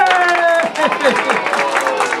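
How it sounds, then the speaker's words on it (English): An audience at a family variety show breaks into a round of applause mixed with cheering voices, the clapping dense and lively while excited shouts rise over it. "Everybody give yourselves a great big round of applause and go, yay!"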